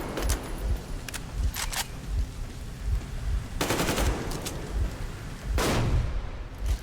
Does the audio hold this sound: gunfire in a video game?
yes